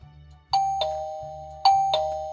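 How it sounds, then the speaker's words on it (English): A Ctronics wireless video doorbell chime rings twice in a quiet apartment, each ring a clear two-tone ding-dong with a bright strike and a long ringing decay, heard alone. "Now let's see if the doorbell is going to work."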